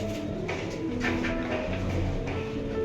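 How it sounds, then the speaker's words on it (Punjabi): ATM breed pigeons coo in a steady low murmur, several birds overlapping continuously at close range with no talk. "ਸੋਨੀ ਸਰਪੰਚ ਵਾਲੇ ਕਬੂਤਰ ਨੇ ਸਾਰੇ ਇੱਕੋ ਖੂਨ ਦੇ ਏਟੀਐਮ ਕਬੂਤਰ"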